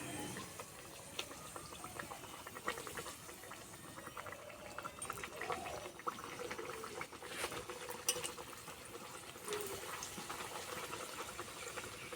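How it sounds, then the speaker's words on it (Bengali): Luchi, puffed wheat flatbread made with ripe mango, fry in hot oil with a continuous, fairly quiet bubbling sizzle that holds steady throughout, no voices over it. "এবার ভেজে নেব তেল গরম হয়ে গেছে দিয়ে দেবো"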